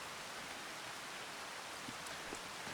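Steady rain in the farming video game Farming Simulator 25, a constant even hiss of falling water with no breaks, soft and continuous, with a couple of faint taps near the end.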